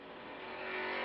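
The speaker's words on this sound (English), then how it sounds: "Remember, you're listening to Dr. Don Tarr speaking from inside his race car as they proceed under the yellow flag." A 1970 NASCAR Grand National stock car, number 36, runs under the yellow flag at the Firecracker 400, heard from inside the cockpit as a steady, loud engine roar that swells slightly toward the end, with no talk.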